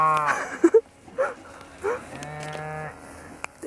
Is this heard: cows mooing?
yes